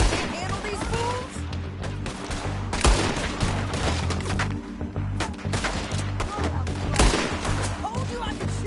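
Gunfire erupts in the video game Red Dead Redemption 2, with repeated sharp shots and bursts cracking over a constant rumbling background, and voices talking between the shots.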